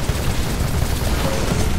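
Heavy, rapid gunfire and booming blasts from an enemy titan in the shooter game Titanfall, dense and loud throughout with no pauses.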